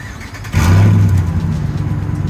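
A Hemi V8 pickup truck engine cranks and fires up, then rumbles loudly with a deep revving burble, close by.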